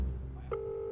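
A phone ringback tone plays during an outgoing call, a steady electronic tone after a brief dialing beep, close and clear with no talking.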